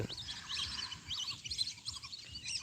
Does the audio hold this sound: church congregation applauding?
no